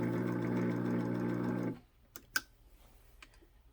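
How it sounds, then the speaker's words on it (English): A 1934 Singer 15-91 sewing machine winds a bobbin with a steady, humming motor whir for nearly two seconds, then stops abruptly, leaving a few light clicks in the quiet. "And then you would wind your bobbin."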